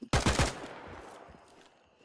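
A quick burst of three or four sharp gunshots in rapid succession, close and loud, followed by a fading echo, in the video game Escape from Tarkov (PvE mode).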